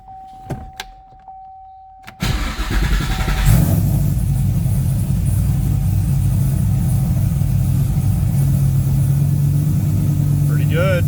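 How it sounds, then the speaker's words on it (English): A Cadillac CTS-V with new mass airflow sensors cranks briefly, fires up loudly and settles into a steady, rumbling idle with a slight rise in revs, heard close up after a few faint clicks. "Let's see how this thing starts."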